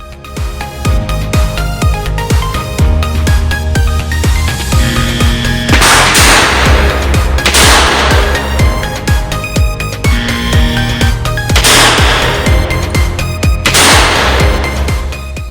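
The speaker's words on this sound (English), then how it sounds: "I need to fire 2 rounds in 2 seconds, and repeat for a total of 4 rounds" A Smith & Wesson Model 10 revolver fires at a 7-yard target: two pairs of loud, sharp bangs, each pair about a second and a half apart, over a steady background of music.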